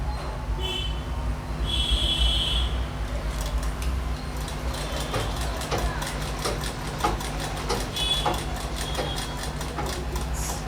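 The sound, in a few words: sewing machine stitching chudithar pant fabric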